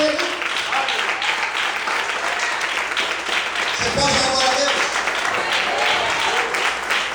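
A church congregation applauds loudly and steadily, a dense wash of clapping sustained throughout, while a preacher speaks over it.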